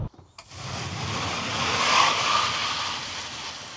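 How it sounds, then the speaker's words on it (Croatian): An MG5 petrol car revs and accelerates up to about 70, a rising engine note with road and wind noise building steadily after a brief thump at the start, heard from inside without talk. "Motor je, evo, proklizava do 70."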